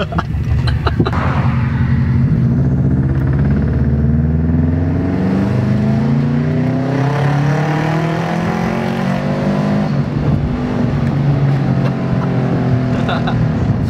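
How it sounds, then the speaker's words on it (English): A car engine roars and revs hard, pitch climbing steadily as it accelerates, loud and close from inside the vehicle, with a voice briefly at the start. "Marco, floor it. Your car is fast."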